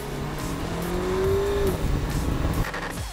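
A Renault Clio RS 200 EDC with its turbocharged engine drives past, rising in pitch as it accelerates before the engine note fades. Tire and road noise follows, and the car sounds fairly close and loud.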